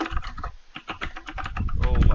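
Fast typing on a mechanical keyboard, a dense run of close, crisp key clicks that keeps going while people talk over it.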